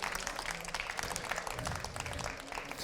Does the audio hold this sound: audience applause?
yes